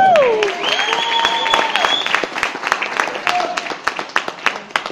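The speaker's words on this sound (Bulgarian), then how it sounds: "Аплодисменти." Applause at a weightlifting tournament award ceremony, a crowd clapping steadily under a man's amplified announcement, the claps thinning into sparse scattered hits toward the end.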